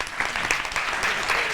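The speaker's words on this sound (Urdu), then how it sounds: "تالیاں بجائیں زوردار." A studio audience at a Ramzan iftar transmission claps in a short, loud burst of applause.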